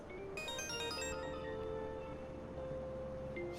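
Phone ringtone from the video game Persona 5 Royal, a bright melodic electronic jingle with a few tonal notes over a steady background hum, moderately loud, without speech.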